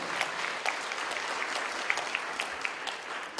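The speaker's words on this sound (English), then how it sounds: "Y'all give Harlan a round of applause" An audience at a youth talk gives Harlan a steady round of applause, moderately loud and continuous for a few seconds. A few sharper claps stand out from the crowd.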